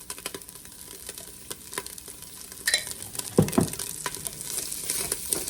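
Bacon frying in added bacon grease in a soup pot, a steady close sizzle with light stirring scrapes and a few louder crackles partway through.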